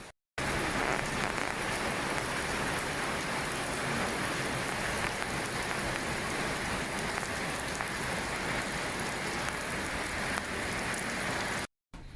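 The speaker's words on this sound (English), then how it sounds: "it was raining. It's actually still raining. The rain has just reduced." Steady, dense rainfall hisses evenly on surfaces for several seconds, with no voices, cutting off abruptly at the end.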